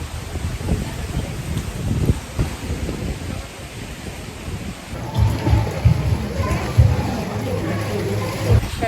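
Gusty wind buffets the microphone over steady rainfall on a beach in Siargao, Philippines, with the roar continuing throughout and growing rougher partway through.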